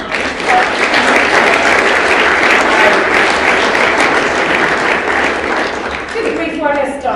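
An audience applauds after a conference talk on the legal side of NFTs in sports, a loud, full burst of clapping that carries on steadily before a voice comes in at the very end.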